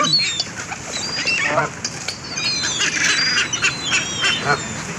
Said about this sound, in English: I'm now surrounded by ducks and geese.